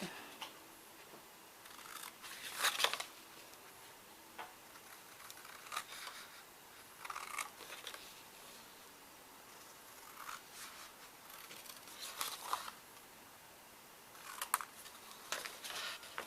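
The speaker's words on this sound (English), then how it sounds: "let's cut these out" Scissors cutting out paper pieces for a house box craft, faint scattered snips and paper rustles at close range, with quiet gaps between cuts.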